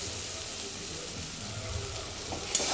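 Chopped tomato frying in chicken curry masala gives a close, steady, dense sizzle that holds evenly throughout the short clip without talk.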